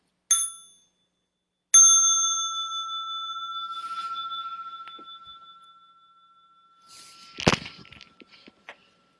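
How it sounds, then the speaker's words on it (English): A small meditation bell rings during an evening mindfulness session, with one short strike followed by a second, clear ring that sustains and slowly fades. Faint rustling and a couple of soft knocks follow near the end. "I'm going to invite the small bell"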